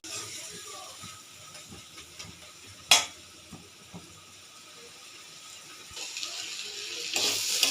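Ginger, cumin and garlic fry in a pan, a soft continuous sizzle with a sharp clatter near the three-second mark and the hiss swelling louder toward the end.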